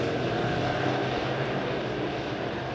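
Midwest modified race cars roaring down the backstretch into turns 3 and 4 at Springfield Raceway during a heat race, a dense, steady engine drone heard from a distance without a break.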